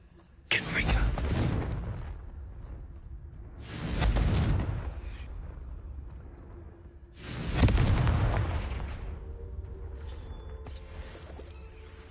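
Three loud fiery blasts from the Confringo spell in the Hogwarts Legacy video game, spaced a few seconds apart, each a sharp boom with a long roaring decay, followed by quieter game ambience.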